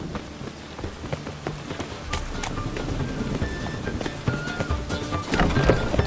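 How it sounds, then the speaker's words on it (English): Steady rain patters in The Witcher 3: Wild Hunt, with scattered droplet hits and what sounds like horse hooves clip-clopping. The ambience builds gradually to a louder downpour with no talking. "Witches have conjured rain again."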